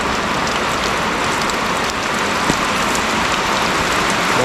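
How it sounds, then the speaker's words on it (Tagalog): Steady rain pours down in a rural Philippine setting, a dense continuous hiss of drops pattering on surfaces, loud and close with no talking. "umulan na naman."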